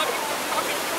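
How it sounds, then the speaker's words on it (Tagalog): Waterfall at Kota Tinggi Falls in Malaysia, a broad steady rushing roar of falling water, continuous and fairly close. "Waterfalls!"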